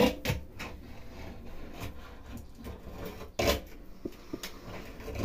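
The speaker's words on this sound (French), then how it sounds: "vous prenez un cutter ou un couteau à beurre et vous venez gratter votre silicone pour bien" A cutter blade scrapes old silicone sealant from a shower joint in short, repeated rasping strokes at close range, some louder than others, with faint background noise between them.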